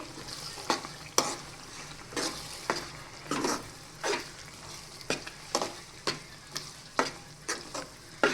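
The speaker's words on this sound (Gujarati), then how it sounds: "જે દૂધીનું છૂંદો કરી અને રાખ્યો હતો તેને એડ કરી દઈશું અને તેને હલાવીને મિક્સ કરી લેશું" A spoon stirs mashed bottle gourd into cooked gravy in a pan, making a steady series of close scraping, squelching strokes about every half second over a faint simmer.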